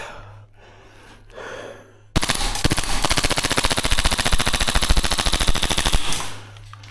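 A Krytac Maxim 9 airsoft gun fires a long rapid burst of evenly spaced shots, loud and close, lasting about four seconds between quieter breathing.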